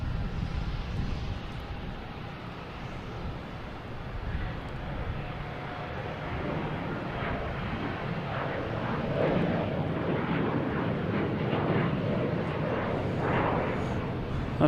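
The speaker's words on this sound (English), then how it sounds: "We have a Delta taking off at E175 to Pittsburgh" Delta Embraer E175 regional jet taking off at Boston Logan, a steady broadband engine roar that builds slightly louder over its length, heard from a distance across the airfield with no talk.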